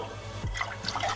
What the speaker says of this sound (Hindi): ये सारा मैं इसमें डाल रही हूँ।